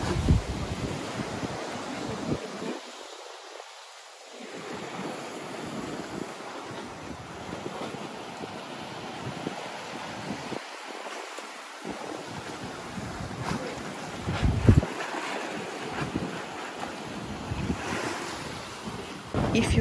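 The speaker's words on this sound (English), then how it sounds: "you will see the water rush into the hole under the rock and will make a thundering sound" Ocean waves surge into a hole under the rock at Acadia National Park in Maine, a loud, rumbling crash and wash of surf that rises and falls repeatedly over steady wind noise, with no talking.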